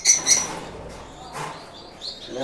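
Rainbow budgerigars in a breeding setup chirp in short, bright tweets, with a couple of louder calls at the start and scattered softer chirps after, fairly close.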